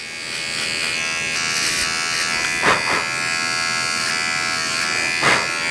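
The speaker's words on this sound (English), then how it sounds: "let me just switch off the trimmer" An electric trimmer buzzes in a steady, close drone while grooming a toy poodle's paw, with two brief louder surges as it touches the fur, no talking.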